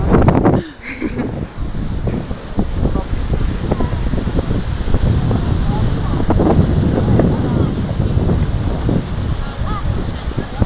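Strong winter wind buffets the microphone at Mondello beach, a loud continuous roar with gusty rumbling throughout and surf faintly beneath.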